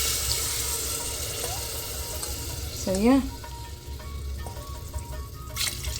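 Three cups of water going into a cooking pot for a one-pot rice and dal lunch, a continuous rushing splash under brief talk.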